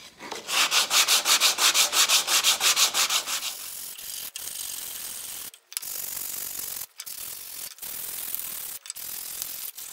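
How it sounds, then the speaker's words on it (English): Cedar is sanded by hand with 180 grit sandpaper, first a quick series of rhythmic back-and-forth rubbing strokes, then a steadier scraping rub broken by brief pauses, close and clear. "So I'm just going to go over this with 180 when I'm ready."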